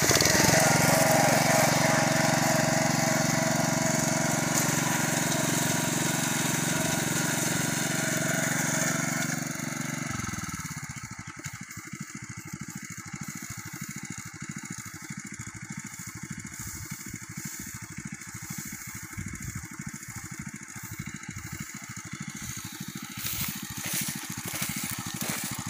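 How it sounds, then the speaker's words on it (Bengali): A petrol-powered rice harvesting machine runs with a loud, steady engine drone that is heavy at first, then drops to a lower, rougher idle-like rumble for the rest of the time, with no speech. "ওটা হইলো কি ধান কাটিবার মেশিন আর এটা পেট্রোল দিয়ে চলে"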